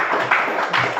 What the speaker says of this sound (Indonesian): kita beri tepuk tangan untuk kelompok 3